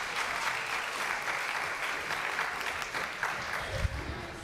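An audience applauds volunteers at a Sunday service, a steady, fairly close burst of clapping from many hands that holds for a few seconds.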